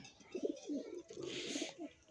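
Domestic pigeons in a backyard loft of breeding pairs, cooing in a steady run of low throaty phrases close by, with faint chirps and no talk.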